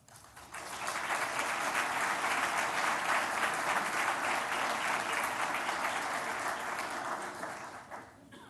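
An audience at a medical school white coat ceremony applauds to welcome a speaker, with steady sustained clapping from many hands that swells quickly, holds for several seconds and then fades.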